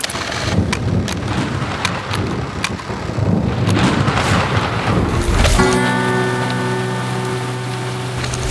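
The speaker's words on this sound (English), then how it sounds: "starting strong this week with a storm." A thunderstorm with steady heavy rain and rumbling thunder, loud and close, the downpour hissing continuously while low rolls of thunder swell underneath; a sustained tonal hum joins partway through.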